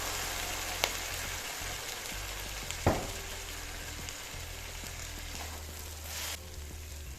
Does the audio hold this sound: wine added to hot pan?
yes